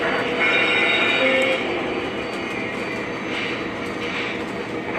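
A Southern Pacific 1996 locomotive on a PRR Keystone live-steam layout rolls inbound, a steady rumble of wheels on rail with faint clicks and a brief squeal, loudest at the start and fairly close, with no talking.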